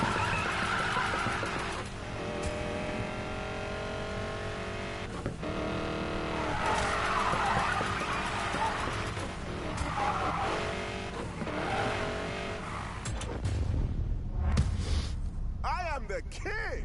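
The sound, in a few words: car drifting with tire squeal in a video game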